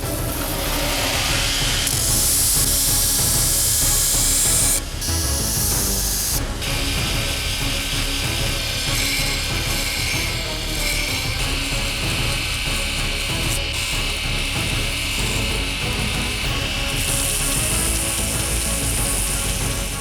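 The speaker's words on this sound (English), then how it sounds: "So I finished grinding that." Bevels of a steel pirate dagger blade being ground: a loud, continuous abrasive roar that holds steady for the whole stretch, with a few brief dips and shifts in tone and no talking.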